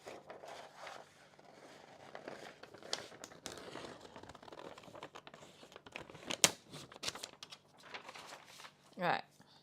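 Scissors cut through scrapbooking paper in soft snips and rustles, with crinkling sheets handled at a craft table, faint and intermittent beneath a speaking voice.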